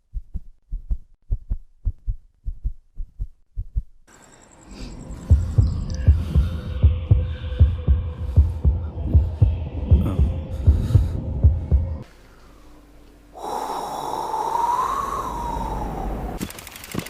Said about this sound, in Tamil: ஹார்ட் பீட் சவுண்ட்ஸ்க்கு ஒரு சாதாரணமான டி-ஷர்ட்டை தான் யூஸ் பண்றாங்க.